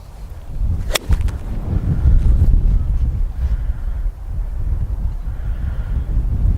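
Gusty wind on a golf course buffeting the microphone in low, uneven rumbles that swell and ease, with a brief sharp knock near the start.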